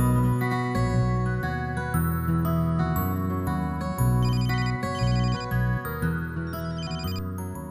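A mobile phone plays a loud melodic ringtone with repeating chiming notes that continues steadily for several seconds with no voices.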